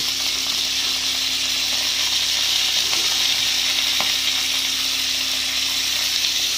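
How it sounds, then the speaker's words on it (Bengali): Cauliflower florets fry in hot oil in a home kitchen, a loud, steady sizzle and crackle that carries on without a break, close up and with no voices. "ফুলকপি তেলের ওপর যদি দাও, এত ফুটতে লাগে"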